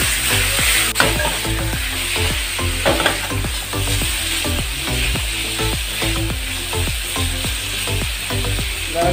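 Chicken gizzards frying with onions in a pan sizzle steadily, with rhythmic scraping and clattering strokes of a utensil stirring repeatedly and loud up close.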